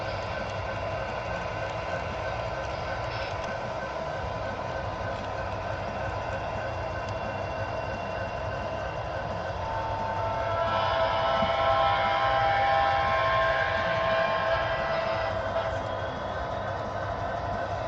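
A model train runs on a small loft layout, a steady low rumble and rolling hum that swells louder around the middle as the locomotive passes closer, continuous throughout with no talk.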